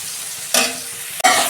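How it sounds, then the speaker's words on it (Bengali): Ground spices including turmeric and chilli powder sauté with a little water in a pan, making a loud close hiss that swells abruptly twice, as with stirring. "অল্প জল দিয়ে আমি মশলাটাকে কষাচ্ছি।"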